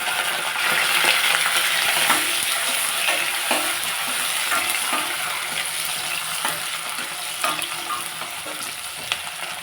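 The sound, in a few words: onion and dry chilli frying with spluttering mustard seeds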